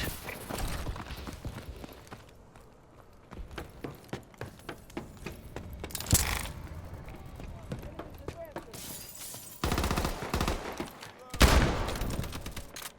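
Pistol gunfire from a railgun in Call of Duty Advanced Warfare, rapid sharp shots crackling in bursts with loud explosive blasts, mixed with people talking over the game.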